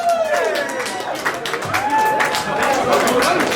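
A large crowd at a rap battle cheers and applauds loudly and continuously, with whoops and shouts rising over steady clapping.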